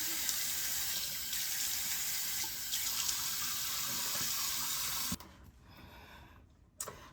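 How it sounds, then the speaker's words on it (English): Tap water runs steadily into a sink while face cleanser is rinsed off during an evening skincare routine, with a close, continuous hiss that cuts off near the end, leaving a quieter stretch. "I just need to wash it off now before going in with my second cleanse."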